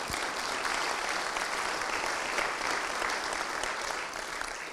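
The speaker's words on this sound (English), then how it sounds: "So a round of applause for our ushers." Audience applause at a West Point Glee Club concert, given for the ushers: an even, sustained wash of hall-wide clapping for several seconds, heard from a distance and with no talk over it.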